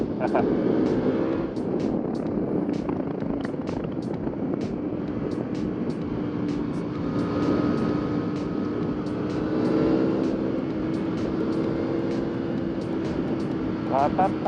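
A motorcycle engine drones steadily with shifting pitch as it rides along, wind noise and a person talking over it throughout.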